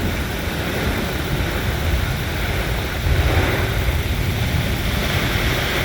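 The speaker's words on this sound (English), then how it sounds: "Going through a good 60-mile-an-hour squall." A 60 mph squall howls across a boat at anchor by Lighthouse Point in Hillsborough Inlet, a loud continuous roar of wind and rushing waves buffeting the microphone, rising briefly to a harder gust midway.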